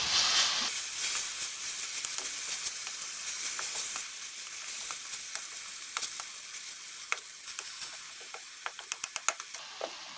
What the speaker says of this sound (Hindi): इनको हम ऐसे ही फ्राई होने देंगे।